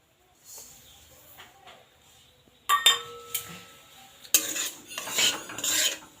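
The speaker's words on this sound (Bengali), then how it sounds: "কোঁড়ায় কোড়ায় সুজিটা দিয়ে দিচ্ছি" Semolina goes into a hot pan (kadai) for suji halwa. After a quiet start come clattering spoon-and-pan clinks and scraping, growing louder and busier toward the end. No one speaks.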